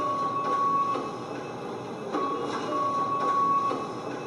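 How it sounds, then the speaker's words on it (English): Library printer noise sampled into a music track: steady mechanical whirring with rhythmic pulses and a thin high whine that starts and stops, repeating in a loop-like pattern, no voices. "So this was the printer sound that I used."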